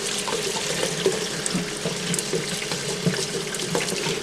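Tap water running into a sink for rinsing tomato seeds, a steady close splashing stream with small spattering fluctuations, continuous throughout with no voices.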